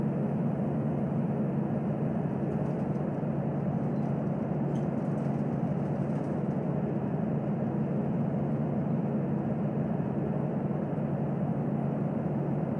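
Airliner engines roar at takeoff power in the Infinite Flight simulator, an airliner departing Honolulu runway 08 left in bad weather. A steady, loud low rumble holds unbroken throughout.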